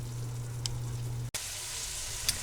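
Ground beef and vegetables fry in a pot for budget hamburger chili, a steady soft sizzle with brief light stirring clicks, heard alone and close.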